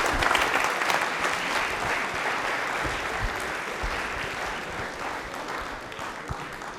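Loud, sustained audience applause greets a correct answer on a televised Rajasthani quiz show, dense clapping filling the whole stretch and easing slightly toward the end, with no talk over it.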